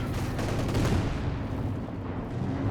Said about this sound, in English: Grenades exchanged.